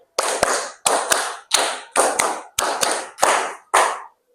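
Seven bursts of hand clapping in a steady counted rhythm in a primary school lesson, each a quick flurry of claps, loud and close with brief pauses between.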